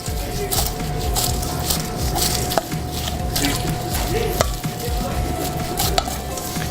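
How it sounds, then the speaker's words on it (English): Freshly fried Brussels sprouts are tossed with dressing in a kitchen, giving a steady close rustle and stir with faint sizzle and occasional sharp clicks of the utensil. "Toss a little more dressing right in our nice fried Brussels sprouts, just came out of the fryer"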